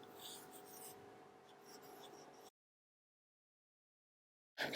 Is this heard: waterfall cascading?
no